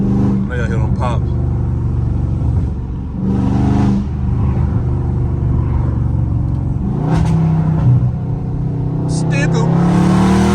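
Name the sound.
Dodge Charger Scat Pack accelerating with exhaust pops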